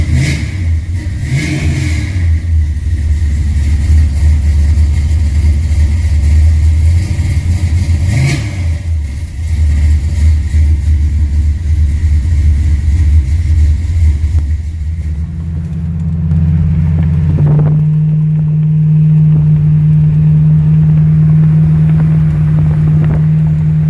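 A car's carbureted E85 engine warms up and revs, a loud close droning idle rising in repeated throttle blips before settling into a steady higher-pitched hum, with no voices.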